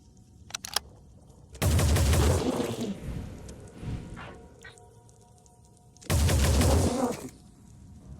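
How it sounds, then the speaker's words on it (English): Two loud sustained bursts of automatic fire from a turret in the tactical game Phoenix Point, each lasting about a second, separated by quieter ambient game sounds and faint clicks. "if the turret can see, the turret can shoot"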